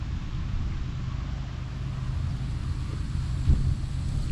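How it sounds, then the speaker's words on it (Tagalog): Strong wind roars steadily across a microphone in a garden of string bean vines on a trellis, a dense low rumble with a brief gust bump near the end. "napakalakas ng hangin oh"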